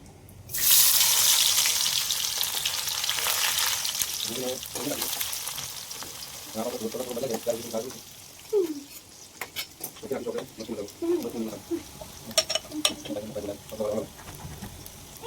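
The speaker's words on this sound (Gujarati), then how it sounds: "અત્યારે આપણું તેલ ગરમ થઈ ગયું છે બધું થઈ ગયું છે તો હવે આપણે નાખીશું ડુંગળી" Sliced onions hit hot oil for a tempering, bursting into a sudden loud sizzle that settles into a steady frying hiss, while a person talks over it for much of the time.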